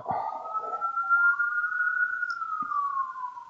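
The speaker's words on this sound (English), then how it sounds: "That was an ambulance." An ambulance siren passes outside, a single sustained wailing tone gliding slowly up and down over several seconds, steady and fairly loud, with no talk over it.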